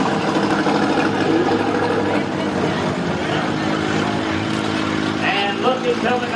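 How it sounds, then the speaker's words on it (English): A 1948 Waterloo tractor engine chugs steadily at a parade, a loud continuous low mechanical drone mixed with crowd noise, while a voice talks over it. "we've got the Waterloo Tractor"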